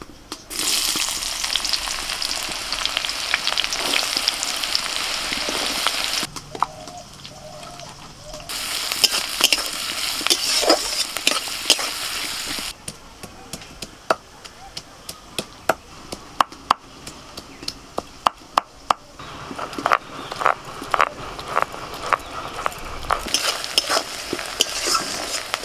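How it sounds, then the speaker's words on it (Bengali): Chopped onion fries in hot mustard oil over whole spices, giving a loud continuous sizzle that dips and returns. Repeated scraping clatters from a spoon stirring the pan run throughout. "এখন দিয়ে দিচ্ছি পেঁয়াজ কুচি"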